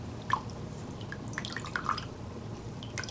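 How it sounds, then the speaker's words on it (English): Water drips from a rag dipped in a small stream, a few scattered soft drops and light splashes, close and quiet, with no voice. "Let me grab a rag, dip it into the little river again."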